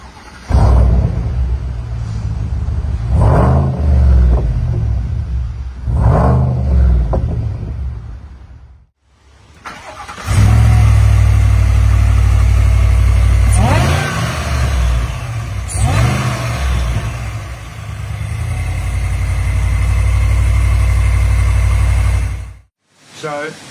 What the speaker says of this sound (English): This is a Whipple Supercharger. It gives this thing huge power and torque.